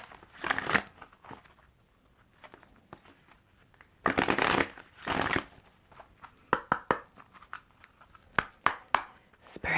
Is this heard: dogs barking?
no